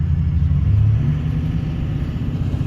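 A truck fitted with big mud tires drives along, its engine giving a steady, low, close rumble throughout with only slight swells and no voices.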